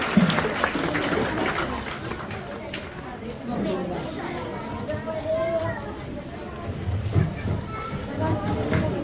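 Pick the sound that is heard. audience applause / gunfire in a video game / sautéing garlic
audience applause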